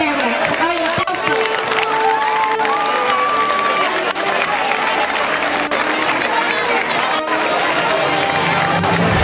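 Applause and crowd noise at a school festival, a dense, loud wash of clapping mixed with cheering voices and chatter that carries through the whole stretch.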